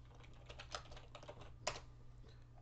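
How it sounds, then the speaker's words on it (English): Keys tapped on a computer keyboard in a quick, light run of clicks with two sharper strokes standing out, close but quiet over a steady low hum. "here we're going to type in event hover"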